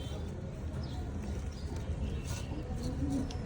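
A Red Lahori fancy pigeon coos in low, soft murmurs that run steadily over a noisy indoor background.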